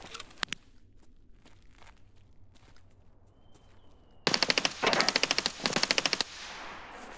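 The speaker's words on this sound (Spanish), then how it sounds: "Están tirando en el medio" Automatic gunfire in Escape from Tarkov, a few faint distant shots early on, then loud close rattling bursts in quick succession, repeated several times before stopping.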